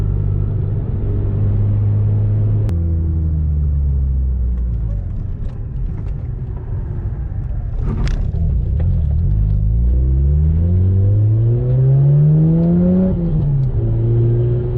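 A Mazda RX-8 rotary engine running after a compression restart, a loud close rumble that dips in pitch then rises through several revs, steady throughout.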